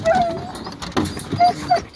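A hunting dog whimpers in short, high thin whines, a few brief cries spaced apart over low background noise, before a wild boar hunt.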